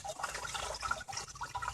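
Water running and gurgling out of a VW Passat cooling system during a coolant flush, a continuous faint trickling and splashing with no voices.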